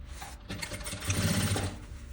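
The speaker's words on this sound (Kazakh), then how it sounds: "тігіп жіберейік." A sewing machine stitches the collar of a stand-collar vest with a steady, close mechanical whir that swells louder midway through the run and then eases off.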